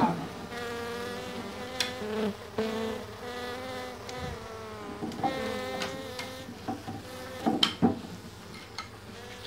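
Honey bees hum and buzz during a hive capture, the drone rising and falling as individual bees pass close by, with a few soft clicks and handling knocks in between.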